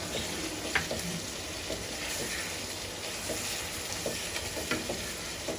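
Chicken stirred with red chillies in a hot frying pan, with a steady sizzle and hiss throughout and occasional scraping knocks from the stirring spoon, moderately loud and close.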